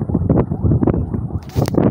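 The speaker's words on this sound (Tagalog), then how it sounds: "Hangin na yan hangin" Strong wind buffeting the microphone while out on a small boat heading home after fishing, loud gusty rumbling bursts that rise and fall throughout.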